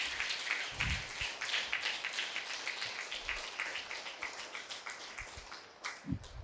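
A crowd at a Buddha Pournami meditation gathering claps in a dense, crackling round of applause that carries on steadily throughout, fairly faint and heard from a distance, with a few low thumps mixed in.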